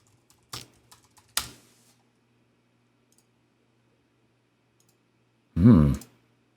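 A few sharp computer mouse clicks near the start, close and crisp against near silence, followed later by a brief louder burst of sound.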